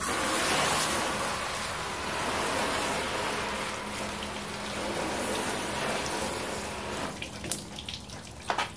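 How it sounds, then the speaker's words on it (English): Running water splashes steadily as headlight restoration compound from a Meguiar's Heavy Duty kit is rinsed off a car headlight, a continuous broadband wash that thins and turns to scattered drips near the end. "And then once done, we're just going to rinse it off"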